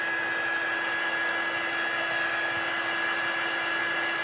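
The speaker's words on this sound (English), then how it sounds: "So I'm gonna bring in my heat tool." A heat tool blows hot air to dry wet paper on an embossed card, a steady loud fan whoosh with a constant whine running unbroken from start to finish.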